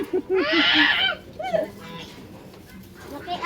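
A goat bleats a couple of times close by, with people talking around it.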